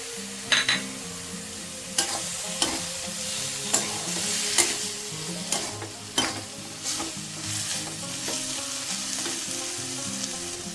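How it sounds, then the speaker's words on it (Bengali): Fried prawns tipped into a pan of taro leaves and stirred: loud, close sizzling runs continuously while a utensil scrapes and knocks against the pan in repeated sharp clatters, with no talking. "ভেজে রাখা চিংড়ি মাছটাও দিয়ে দিচ্ছি।"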